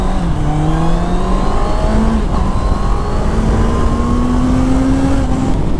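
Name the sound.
Honda CBR650R motorcycle accelerating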